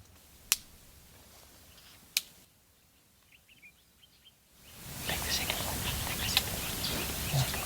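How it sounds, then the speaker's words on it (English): Two sharp twig snaps near a resting South African buffalo herd in the bush, set apart by a couple of seconds, followed by rising outdoor ambience and faint bird calls. "tries to get their attention by snapping twigs"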